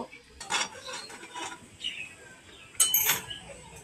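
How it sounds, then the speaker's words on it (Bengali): An egg is pushed across a tawa griddle with a utensil, producing soft scraping strokes and occasional light metallic clinks over a faint sizzle, fairly quiet and close. "এবারে ডিমটাকে পুরা তাওয়াটাতে এরকম করে সরিয়ে নেওয়ার মতো করে নেব।"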